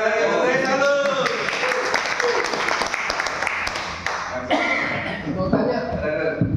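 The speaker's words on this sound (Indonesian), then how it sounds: "Tepuk tangan sekali lagi untuk Reza Luz." An audience claps for Reza Luz after a live Rubik's Cube demonstration, sustained loud applause with a few chuckles and voices mixed in, tapering toward the end.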